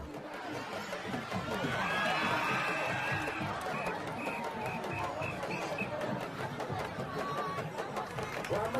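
A dense crowd at a wrestling match in Dakar fills the air with continuous chatter, shouts and cheering, with a whistle-like tone piping through partway.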